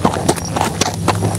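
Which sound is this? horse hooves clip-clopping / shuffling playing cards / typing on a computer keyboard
horse hooves clip-clopping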